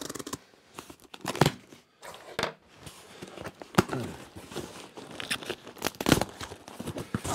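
A taped-up parcel holding a camera is torn open up close. Irregular ripping of tape and crinkling paper packaging come in bursts, with brief pauses between the pulls and no talk.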